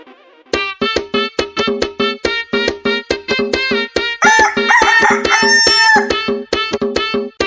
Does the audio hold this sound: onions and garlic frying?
no